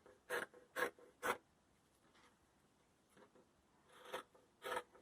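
Four layers of cloth mask fabric being cut, with crisp scissor snips coming in quick groups of three near the start and more near the end, close and fairly quiet with pauses between.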